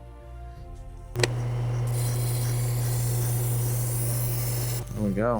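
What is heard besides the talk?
sharpening and deburring a knife edge on a Tormek T-8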